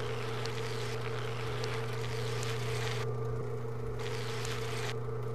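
Buzzy, scooter-like engine drone from a Happy Wheels vehicle, a steady loud hum with strong low tones running continuously throughout.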